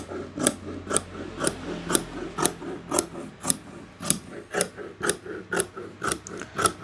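Scissors cutting a fabric skirt pattern along a chalk line, a steady series of about a dozen crisp snipping strokes at an even rhythm, close and clear, with no voices.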